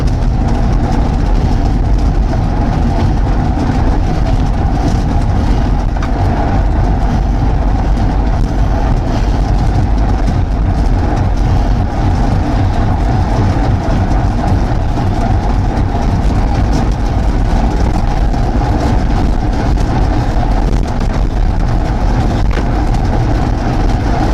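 A WOW velomobile speeds up into a sprint, giving off a loud, unbroken rumbling drone of wheels and rushing air that stays even for the whole stretch, with no talking.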